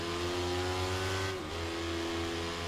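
An upgraded racing motorcycle's engine in the Ride 3 video game holds a continuous, fairly quiet mechanical drone that dips slightly in pitch midway, with no talking.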